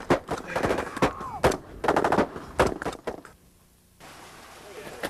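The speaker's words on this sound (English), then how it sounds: "wounded American soldiers are trapped in a firefight with rebel forces" Gunfire in a firefight with rebel forces in East Africa, rapid bursts of sharp shots in clusters, with voices under the shooting before it falls to a quieter rumble.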